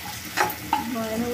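A spoon stirs pasta in a frying pan over sizzling heat, with a few scraping strokes standing out clearly above a steady low frying hiss, close and alone with no talking.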